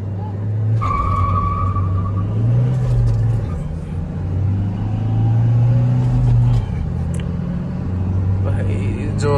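Two cars, a Mahindra XUV and a Toyota Innova Crysta, roar side by side in a drag race, engines droning loudly with rising revs and a brief tire squeal, while people talk excitedly over the noise.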